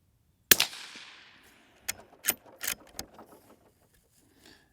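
A Ruger Precision Rimfire rifle chambered in 17 HMR fires one sharp, loud shot, followed by several clicks and clacks of the action being cycled, with no one talking.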